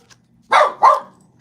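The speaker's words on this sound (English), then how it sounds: "Sorry for the barking." A dog gives two loud, close barks in quick succession, each about a third of a second long, after a brief faint sound.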